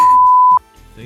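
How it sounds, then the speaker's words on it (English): A phone rings with a single steady electronic tone that holds for about half a second, loud and close, then cuts off abruptly, leaving faint background noise and soft movement. "Dang it, my phone's ringing too."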